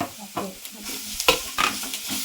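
Grated coconut is stirred into banana frying in a pan, with a spatula scraping and tossing in irregular strokes over a soft, steady sizzle.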